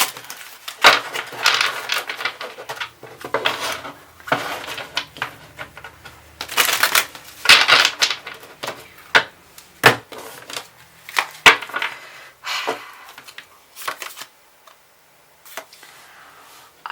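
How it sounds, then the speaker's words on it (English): A deck of tarot cards is shuffled by hand up close, with crisp, irregular riffling and flicking bursts and card taps spread over the whole stretch, loud against near silence and with no talking. "give me a moment as I shuffle the deck one more time"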